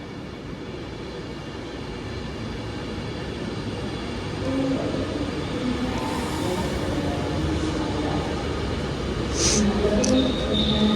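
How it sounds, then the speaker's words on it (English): Avanti West Coast Pendolino 390-119, an 11-coach train at Stoke-on-Trent station, rumbles steadily as it passes, a low continuous rolling noise that grows slightly louder, with faint voices in the background. "this train is the Pridelino 390-119"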